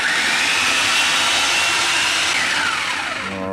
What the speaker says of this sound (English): Let's blend it up.